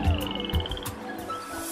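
Frogs at a countryside pond croak in quick throaty bursts, close and fairly loud, amid other pond chirps and a thin high trilling call.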